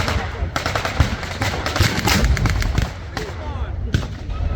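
Bursts of gunfire crack out at a WW2 battle reenactment, with rapid repeated shots and sharp isolated reports over outdoor crowd noise and faint voices.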